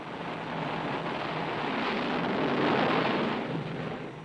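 Aircraft carrier steam catapult firing a launch, a loud, broad roaring rush that swells steadily over several seconds and peaks near the end, with no talk.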